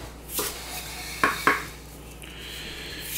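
A kitchen knife cuts potatoes into cubes on a board, giving a few sharp clicking chops close by with quiet pauses between them.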